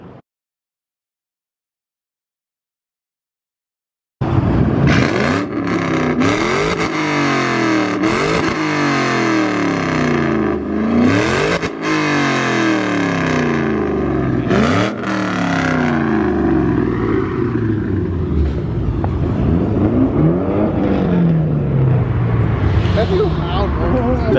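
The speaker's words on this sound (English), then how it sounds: "He about to rev it." Car engine revving loudly at a car meet, close by, with repeated surging rev sweeps that rise and fall across the clip after a few seconds of silence, people talking over it.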